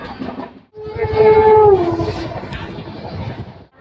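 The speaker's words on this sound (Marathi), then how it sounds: "आणि गाडी ओव्हरटेक करत आहे" A train overtakes on the Pune to Kurduwadi line, with a clear horn note that bends downward in pitch as it passes over a close, rumbling rattle of wheels.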